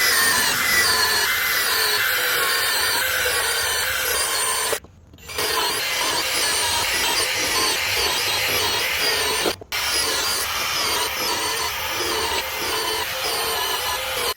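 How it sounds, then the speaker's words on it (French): Power drill boring 10 mm holes into wooden joists while installing vertical open-slat cladding, a loud continuous whining grind broken by two brief pauses, no voices. "je perce les lambourdes en 10 mm parce que la cheville fait 10 mm"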